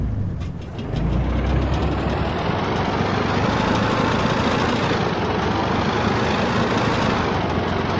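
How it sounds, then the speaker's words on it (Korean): Loud, steady armored vehicle engine from ARMA 2 runs continuously at close range, a heavy broadband rumble with a low throbbing idle that holds nearly level throughout with no speech. "엔진 이 소리도 뭐야, 엄청 커요."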